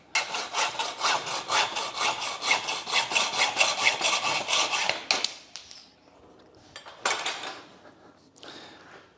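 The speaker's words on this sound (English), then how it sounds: "we're just going to score that mark there with the hacksaw" Steel electrical conduit is cut with a hand hacksaw in steady back-and-forth strokes, a rhythmic rasping that runs for several seconds, then breaks into a few scattered scrapes and short strokes with metallic clinks before stopping.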